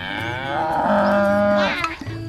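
A young water buffalo grazing beside a creek in rural Roi Et, Thailand, lets out one long, loud, close moo that rises and then trails off.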